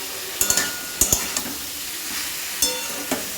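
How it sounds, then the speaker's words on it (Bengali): Spiced food in a pan being stirred after sugar and salt go in, a low continuous sizzle with a few sharp spoon knocks against the pan in small clusters. "নুন দিয়ে ভালো করে একটুখানি নাড়িয়ে নিলাম"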